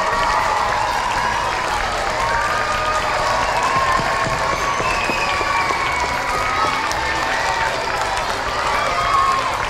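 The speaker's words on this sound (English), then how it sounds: "How about a huge round of applause for Mr. Rigby for playing the guitar and putting this together." Applause from an audience at a first grade school performance with guitar, loud and continuous, with crowd murmur and scattered cheering mixed in.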